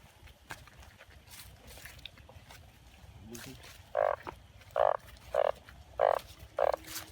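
Narrow-mouthed frogs croaking at night after fresh rain, a quiet chorus at first, then five loud, close croaks in a steady rhythm over faint background calls.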